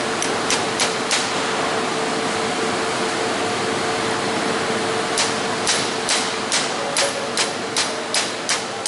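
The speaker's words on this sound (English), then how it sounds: "you got the proper size socket and a mallet. You can just tap it down in there." A mallet taps a socket to seat a part during an IHI Duramax LB7 turbo rebuild, sharp knocks in a quick burst early on and a longer evenly spaced series later, over a constant background hum.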